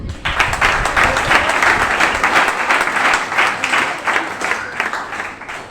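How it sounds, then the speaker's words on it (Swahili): A church congregation claps together, a dense, steady, fairly loud patter of many hands filling the room throughout, with faint voices mixed in underneath. "Saidia wewe kupiga makofi."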